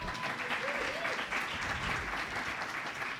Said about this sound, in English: And now you can applaud.